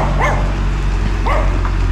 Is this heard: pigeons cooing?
no